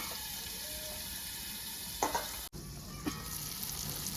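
Onions frying in a pan for chicken kosha, a steady soft sizzle throughout with a few brief clatters of utensil or lid contact, no talking.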